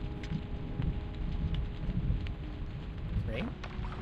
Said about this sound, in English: Oh, the rain only appears here.